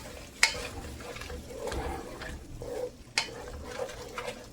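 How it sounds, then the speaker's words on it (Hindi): Mutton keema stirred and fried in a pot for keema biryani, with a faint sizzle beneath irregular scraping strokes and two sharp clinks of a spoon against metal. "और इसको अच्छी तरह से मिक्स करते हैं। और कीमा हम अच्छी तरह से भूनेंगे।"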